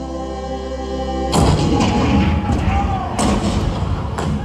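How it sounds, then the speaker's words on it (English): Deep cannon blasts and booming rumble break in after a soft musical opening at a Disneyland attraction depicting Fort Sumter, with heavy shots recurring over a continuous roar. "The cannons spoke for war."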